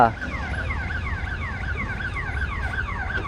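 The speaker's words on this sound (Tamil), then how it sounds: "அது எதுக்காக வென்றால் ட்ரெயின் போக போகுது அதுக்காக சிக்னல் நண்பர்களே" A repeating electronic warning tone from a railway crossing signal in Kerala sweeps up and down in a steady cycle, continuous and fairly loud, sounding nearby.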